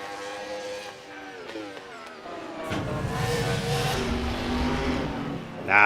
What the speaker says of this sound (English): Utes sounding like Formula 1 cars, man. The revving a wee bit higher.